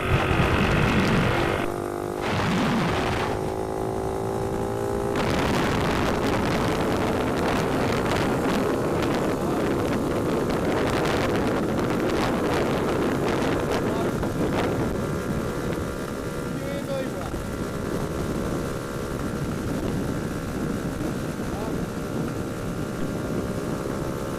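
A vehicle powered by a GT300LC customer engine makes a first test run, holding top gear at about 24 mph. A continuous engine drone runs throughout, heavily mixed with buffeting wind noise on the microphone.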